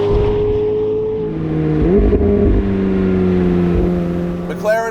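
A 2024 McLaren 750S's 4-litre twin-turbo V8 exhaust rumbles and revs loudly up close, with a deep, throaty note that rises and falls.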